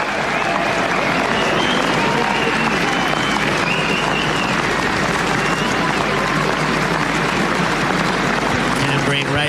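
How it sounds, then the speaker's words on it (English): Big cricket crowd at the Basin Reserve in Wellington applauding during a New Zealand v Australia Test, a steady broad roar of clapping and cheering that holds loud and unbroken throughout, with a commentator's voice faintly beneath. "let's acknowledge and listen to this crowd at the Basin"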